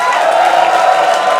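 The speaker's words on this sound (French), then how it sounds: "Est-ce qu'on peut pousser des cris de joie?" Church congregation raising shouts and cries of joy, a continuous loud crowd roar of overlapping voices with whoops, sustained without breaks.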